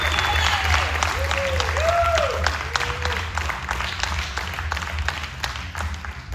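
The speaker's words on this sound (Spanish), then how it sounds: "Antes de sentarse, den un aplauso a Dios." Congregation in a church clapping for God before sitting down, a loud continuous applause with voices calling out over it, tapering slightly toward the end.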